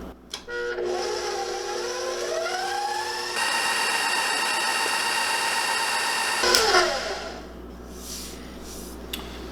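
An electric mixer beats eggs one at a time into creamed butter and sugar for a cake, giving a loud, steady whirring hum whose pitch rises as the motor speeds up, followed by a brief clatter and a drop to a lower drone.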